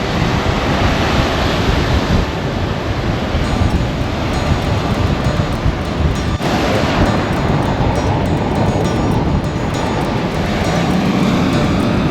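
Continuous roar of beach surf and strong wind on St. George Island, Florida, with waves washing steadily and gusts buffeting the microphone, loud and unbroken with no voices.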